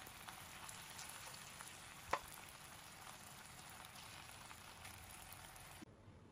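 Honey-glazed chicken grilling in a pan, a faint steady sizzle and crackle close up, with one sharp tap partway through and the frying cutting off abruptly just before the end.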